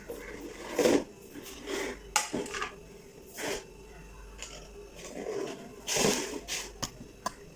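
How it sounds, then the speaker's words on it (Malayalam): Steamed ragi and jackfruit appams being lifted out of a steamer one by one, with metal clinks and clatters of pot, lid and utensils in several separate bursts, fairly close, with no talk. "ഓഫ് ചെയ്തിട്ട് ഇനി നമുക്കത് ഓരോന്ന് പുറത്തെടുക്കാം"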